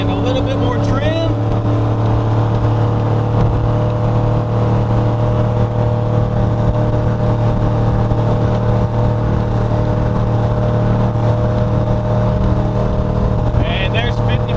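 A Raven Countach boat with a 350 Vortec engine at speed as throttle increases, a constant loud droning roar over water with a voice talking on top.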